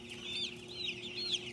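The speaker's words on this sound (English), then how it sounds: "these are the fancy chickens that we got the other day" Several fancy-breed chickens, including Sumatras and a Polish, cluck and chirp softly in short repeated calls, close by, over a steady low hum.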